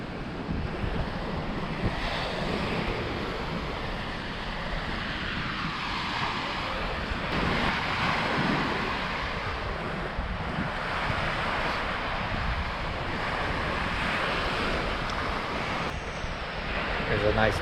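Waves wash steadily along the Lake Superior shoreline for the whole stretch, a constant broadband surf with wind buffeting the microphone and no clear breaks between swells.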